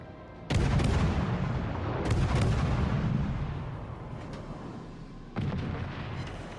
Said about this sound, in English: Shots out on the Cavour